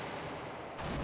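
Railgun blast in Battle Engine Aquila, one heavy booming shot with a dense burst that swells again near the end, loud and close with no talk.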